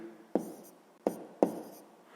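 A pen writes on paper while solving a math exercise, with three short close scratchy strokes separated by brief pauses.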